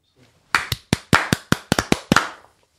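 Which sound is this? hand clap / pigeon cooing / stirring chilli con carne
hand clap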